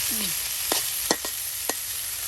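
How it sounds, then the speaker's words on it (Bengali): Radish greens frying in oil in a pan while being stirred: a steady bright sizzle throughout, cut by a few brief scraping stir strokes, with no voices. "এখন তেলের সাথে সুন্দর করে শাক পাতাগুলো মিক্সড করে নেওয়া হচ্ছে।"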